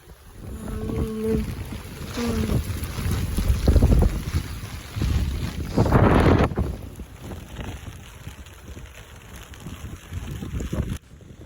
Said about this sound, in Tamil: இங்கே வந்து காற்று வேற ரொம்ப ஜாஸ்தி அடிச்சுக்கிட்டு இருக்குது